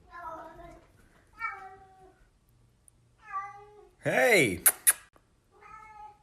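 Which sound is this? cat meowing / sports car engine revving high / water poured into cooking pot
cat meowing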